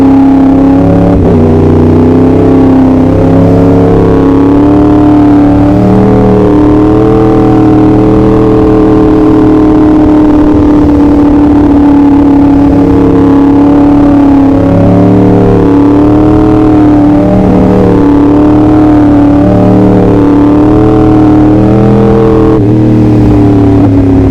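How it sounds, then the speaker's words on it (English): A Yamaha R1 motorcycle engine revs hard and close, its loud, steady roar rising and falling in pitch across repeated throttle blips with no voices over it. "absolutely love the sound of this bike"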